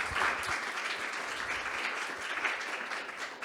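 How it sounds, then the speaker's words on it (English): An audience at a futures studio event claps for the presenters, a continuous crowd applause of many hands, fairly quiet and even throughout, without speech. "a big round of applause to all of the presenters today"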